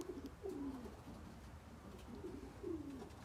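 Pigeons at a young bird loft, two soft low cooing calls a couple of seconds apart over quiet background noise.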